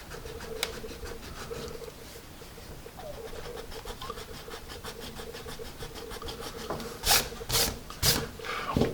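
Magic Rub eraser erasing pencil marks on paper, a steady scratchy rubbing with a rhythmic back-and-forth texture, growing into louder, sharper strokes near the end.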